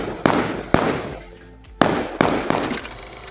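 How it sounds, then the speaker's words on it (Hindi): Firecrackers go off at Diwali in sharp, loud bangs, five in all and irregularly spaced, each trailing a crackling echo, with a brief quieter gap in the middle. "यहाँ पटाखे फोड़े जा रहे हैं।"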